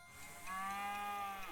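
A cow in the video game West of Loathing lets out a single drawn-out moo, clear and alone without any talk.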